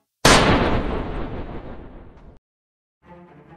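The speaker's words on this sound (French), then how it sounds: "Le coup de feu faucha un agent." A single loud, close gunshot fired by a panicking young man at police, a sharp blast that decays over about two seconds before a brief silence and a faint tonal sound.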